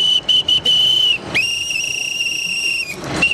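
A football supporter at the 2013 Africa Cup of Nations blows a shrill whistle: three short toots, then a long steady blast, a pause, a second long loud blast, and a final short toot, close and piercing.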